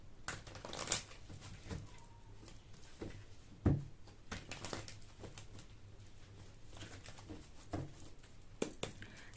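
Tarot cards being shuffled close up, a continuous papery riffling and patter with occasional sharper flicks, steady and moderately quiet over faint background hum.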